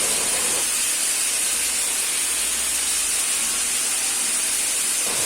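Tomatoes fry in a pan with salt, chili powder and turmeric for a tomato chutney, giving a loud, continuous close sizzle and hiss with no talking.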